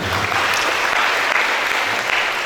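Applause from a seminar audience at an Indonesian spiritual motivation talk, a steady dense clapping that fills the whole stretch at close range with no other sound on top.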